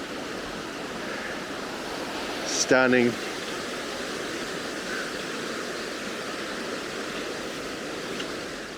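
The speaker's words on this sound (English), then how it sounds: "There's just water running down these mountains everywhere you look." Mountain water runs down into a river, a broad constant rushing roar heard from nearby, with one brief spoken word partway through.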